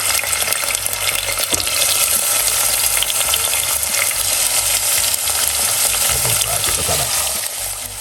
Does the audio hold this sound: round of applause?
no